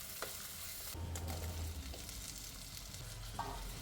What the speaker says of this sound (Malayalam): ഈ കായും കൂടി ഇതിലിട്ടൊന്ന് ഒന്ന് വറുത്തെടുക്കണം